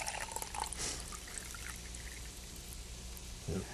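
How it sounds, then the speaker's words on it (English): Water, the equivalent of two cans, is poured into a pot of beefy French onion soup, giving a soft continuous splashing pour with a brief louder splash near the end. "So I'm just going to add the equivalent of 2 cans of water."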